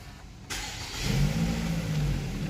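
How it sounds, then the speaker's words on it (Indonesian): A 2020 Toyota Alphard 2.5 engine, started by push button, cranks and catches, then settles into a steady idle with a slight rev. Nobody speaks. "tekan start stop engine button yang sebelah kanan ini untuk menyalakan mesinnya"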